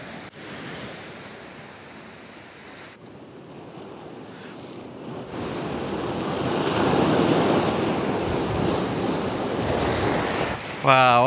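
Incoming tide waves wash and roar along a rocky North Anglesey shore, building from a soft hiss to a louder rolling surge, with wind buffeting the microphone throughout.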